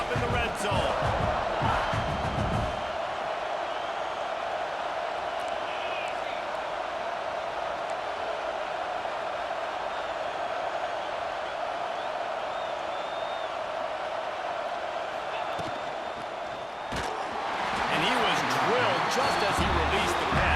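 A stadium crowd roars steadily from start to end in a college football video game, rising as the defense tries for a red zone stop, with a commentator talking over it.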